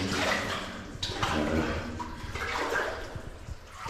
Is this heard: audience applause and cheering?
no